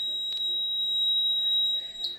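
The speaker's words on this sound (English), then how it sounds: "let's see if we can power the buzzer too" A small buzzer driven by an Arduino board sounds as a single steady, piercing high tone for about two seconds, loud and alone, then cuts off.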